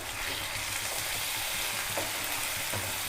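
Ginger garlic paste fries with onions in a pan for a tomato rice dish, a loud close continuous sizzle with brief stirring scrapes, steady throughout and with no speech.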